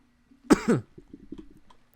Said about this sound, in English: Ooh, cough.